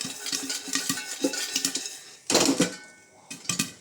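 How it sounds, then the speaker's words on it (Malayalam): A pressure cooker being shaken on the stove while making popcorn at home, with rhythmic metallic rattles and clanks that burst louder near the end. "അതുകൊണ്ടാണ് ഞാൻ കുക്കറിനിപ്പോൾ ഷെയ്ക്ക് കൊടുക്കുന്നത്."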